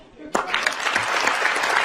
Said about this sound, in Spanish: Los aplaudo yo a ustedes por el pleno que acaba de concluir.